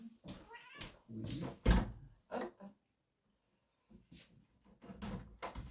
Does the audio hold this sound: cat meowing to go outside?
yes